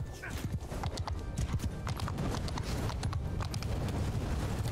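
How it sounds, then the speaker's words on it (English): A horse's hooves clip-clop in rapid, continuous rhythm in the Mount & Blade II Bannerlord video game, sounding like hard strikes on stone even over grass. The dense footfalls stay close and loud with steady low rumble beneath. "you walk over grass, but your horse makes sounds like you're walking over"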